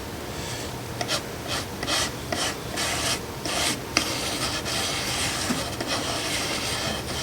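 A chisel tip scrapes old dry foam edge off a Bose 901 speaker cone in rapid rasping strokes, close and steady, with brief bursts of harsher scraping.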